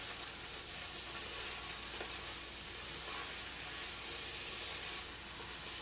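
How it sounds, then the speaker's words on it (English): Kale sizzles steadily in a hot pan as it is stirred, a continuous even hiss with faint scraping, fairly quiet and close, with no talking. "Stir your kale."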